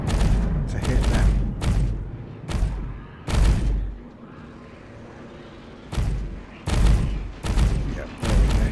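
Spaceship guns in the Star Citizen video game fire in loud booming bursts, several rapid volleys separated by short pauses, over a low rumbling engine drone.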